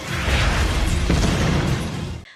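Missile blast tearing through a prison span in the 2008 film Death Race, a dense roaring explosion with a sharp secondary burst midway and rumbling debris, cut off abruptly.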